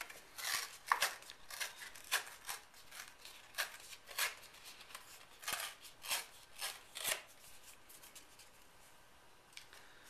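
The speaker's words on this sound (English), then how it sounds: "I'm going to use a piece of card and I'm just going to tear a few hills in" Card is torn by hand in a quiet room: a series of short, dry ripping bursts, close and fairly faint, coming in an uneven rhythm with brief pauses between pulls and no talking.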